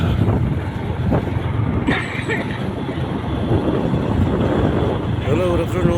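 Motorcycle ride on a hot summer day in Mindanao near a rice field, with steady engine rumble and buffeting wind noise throughout and a few faint higher tones late in the ride.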